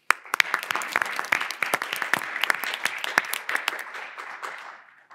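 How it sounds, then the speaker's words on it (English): Audience applause at a board of education meeting, a dense run of hand claps from a room of attendees that holds steady for several seconds before tapering off at the end, with no talk over it. "Can we have a round of applause for them?"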